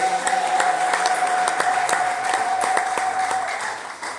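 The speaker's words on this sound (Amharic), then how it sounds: "አጨብጭቡ ለጌታ ክብር።" A church congregation clapping in praise of the Lord, loud and continuous, with fast, overlapping claps from many hands filling a large room and a sustained tone running underneath.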